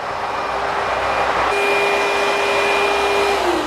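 A homemade hot air blower tunnel runs as a loud, steady roar with a constant whine, and the pitch shifts slightly partway through before it keeps droning with no speech.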